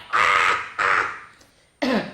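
A voice imitates harsh coughing in three rough, raspy bursts, loud and close, with short pauses between them.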